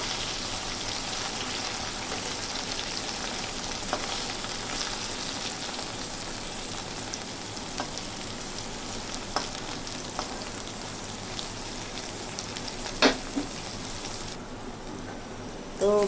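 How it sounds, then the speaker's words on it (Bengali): Okra pieces fry in oil in a pan with a steady close sizzle and scattered crackles and pops, and a few louder clicks of utensils near the end. "তো ভেন্ডিগুলো আমার ভাজা হয়ে এসেছে, দেখুন এইভাবে একটু লাল লাল করে ভেজে নিতে হবে।"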